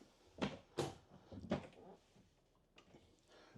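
A few quiet wooden knocks and slides of a drawer being opened and shut in a 2024 Cedar Creek 3325BH RV, spaced out over a few seconds in a calm room.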